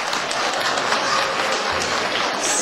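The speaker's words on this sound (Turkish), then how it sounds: "Alkışlar gelsin!" Dense, steady audience applause fills the whole stretch at an even loudness, with no voices standing out, after a dance proposal is made at a celebration.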